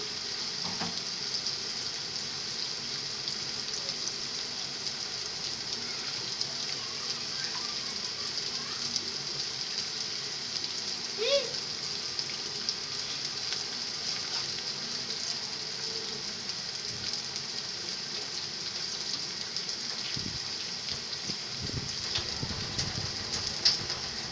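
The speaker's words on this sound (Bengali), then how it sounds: "আমি একটু লালচে বাদামি করে একটু ভেজে নিব" Onions fry until reddish brown for a pointed gourd seed bhorta, giving a quiet, steady hiss and sizzle that runs the whole time with no talking.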